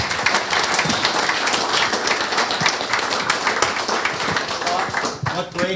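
An audience gives a sustained round of applause, dense clapping held at a steady level throughout, with voices talking over it near the end.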